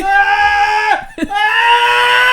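A voice imitates a screaming Honda D-series car engine, a loud, sustained high-pitched wail that drops briefly as if shifting gears, then climbs and holds again, close and alone.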